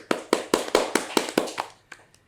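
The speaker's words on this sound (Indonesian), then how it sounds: "Ayo kita tepuk tangan dulu dong." A handful of audience members clap at a political gathering introducing legislative candidates in Banjar Regency, with about eight sharp, evenly spaced claps that thin out into a few scattered last ones.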